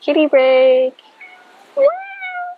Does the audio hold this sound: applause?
no